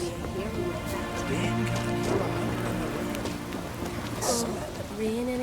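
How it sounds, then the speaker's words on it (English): Steady rain patter in the video game The Witcher 3: Wild Hunt, a constant wash under game music and possible faint voices, with a few hoof-like clops. "Raining again."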